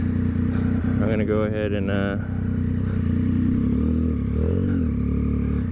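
2022 Yamaha XSR900 retro naked motorcycle engine idling loud and close in a steady low rumble, with someone talking over it.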